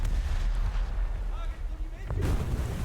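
Naval cruiser guns firing at a Japanese destroyer in the War Thunder game, with the Yūbari prototype cruiser's heavy booms and rumbling blasts repeating over a constant low roar, closing in one loud burst near the end.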